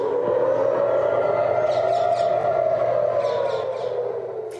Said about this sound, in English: Sirens rang out across Israel and the occupied territories as interceptors worked to repel the attacks.